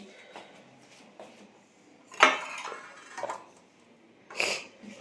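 Rice is served onto a plate in a home kitchen, with scattered soft clinks of dishes and a few sharper clatters of a spoon against the plate, quiet and close.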